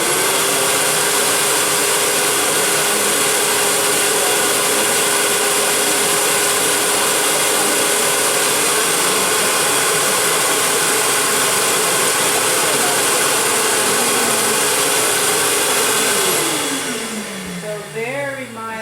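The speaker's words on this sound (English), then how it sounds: "Turn on the vacuum one more time off leash." A loud, steady motor whine runs continuously, then winds down near the end as the pitch drops away.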